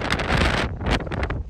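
Strong wind gusts roar against the microphone high above the Rhodope foothills, a loud continuous buffeting that briefly drops away, then returns in rough bursts.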